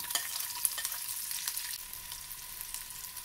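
Four or five small shallots, sliced into rounds, fry in half a tablespoon of hot ghee with a soft, steady sizzle and faint intermittent crackles, quiet and close, with no speech.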